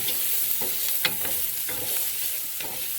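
Onions frying in olive oil, picking up brown bits for a Guinness stew, with a steady hiss and soft repeated scraping strokes of a utensil stirring the pan.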